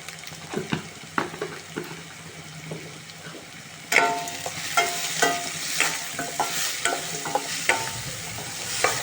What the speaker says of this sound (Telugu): ఇలా అండి ఉప్పు పసుపు వేసి బాగా మంచిగా కలుపుకోండి